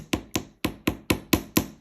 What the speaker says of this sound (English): So now I'm going to apply a little more force and start hammering it a little harder.